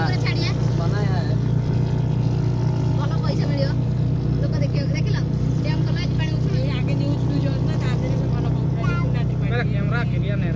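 Vehicle engines roar loud and continuous on a road in Jamshedpur where riders perform stunts, with a dense motor drone and wind noise running throughout under excited talk.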